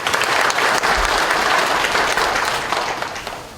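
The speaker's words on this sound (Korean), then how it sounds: "한 분 한 분 소개될 때마다 큰 박수로 환영해 주시기 바랍니다." A hall full of people gives loud, sustained applause to welcome a judge being introduced at a corporate quality competition; the clapping is dense and continuous and tapers slightly toward the end.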